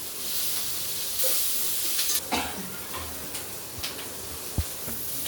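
Onions, green chillies and curry leaves frying in a pan make a steady sizzling hiss. Scattered clinks and taps from the pan sound at intervals.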